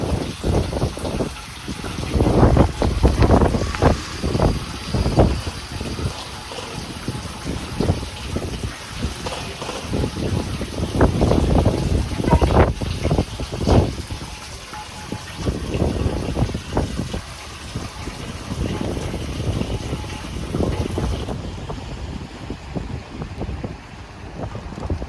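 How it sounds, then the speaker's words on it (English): Strong wind on a rainy day gusts and buffets the microphone in loud, uneven roaring bursts, with a constant rushing hiss underneath throughout. "Yeah, it's windy too."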